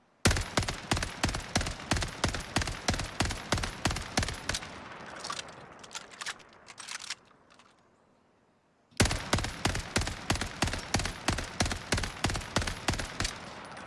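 An assault rifle fitted with a burst barrel fires on a range in Warzone, a long run of rapid evenly spaced shots, then a brief lull with faint clatter before another loud sustained string of rapid fire.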